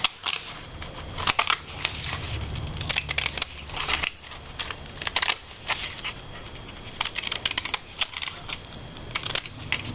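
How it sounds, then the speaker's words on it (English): Scissors cut magazine paper with repeated crisp snipping and rustling, close by, in irregular bursts with brief pauses between cuts. "I'm gonna cut this one out next with the same pair of scissors"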